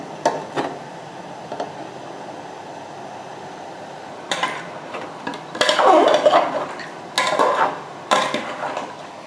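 Chicken biryani stirred in a cooking pot, with a few scattered scraping and clanking bursts of spoon on metal, some brief and others longer and louder, between quiet gaps with no talk.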